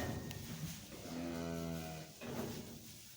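Cattle on a farm, cows and their young calves near a shed, give a long, loud moo in the middle of a steady ambient hum, with a fainter lowing call at the start.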